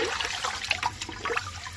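Water sloshing and trickling as finger millet (ragi) is rinsed by hand in a bowl, a steady splashy wash with small bursts, close and fairly loud, no voices.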